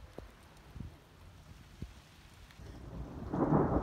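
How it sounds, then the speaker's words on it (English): Thunder from a thunderstorm that has been damaging trees: several sharp low cracks and rumbles early on, then heavy rain swelling loudly toward the end. "Lots of thunder strikes!"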